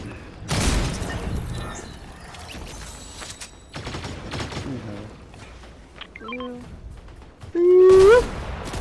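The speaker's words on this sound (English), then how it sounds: "Is someone else shooting me?" Fortnite gunfire, with short bursts and scattered shots heard amid other game effects, partly under a player's talking.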